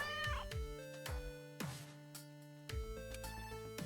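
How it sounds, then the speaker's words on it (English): A cat meows right next to the microphone indoors, several close, loud, pitched meows in a row with brief gaps, set against a steady background of electronic tones. "She meowed next to the mic."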